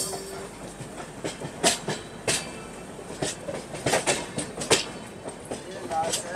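Long-distance Agartala–Bengaluru passenger train rolling toward Perambur station in Chennai, with steady rumbling and repeated clickety-clack wheel beats heard from inside the coach at moderate loudness, faint voices mixed in.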